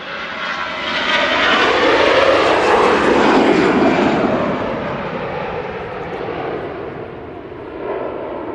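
An Airbus A321 from Tenerife at Manchester Airport passes close with a loud, rushing jet roar that swells to a peak, then eases and rises again, with a shifting whine sweeping through it.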